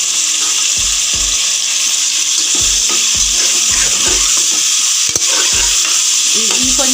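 Fenugreek leaves sizzle in a pan while a spoon stirs them, giving steady loud frying hiss with repeated scraping strokes throughout, no talking.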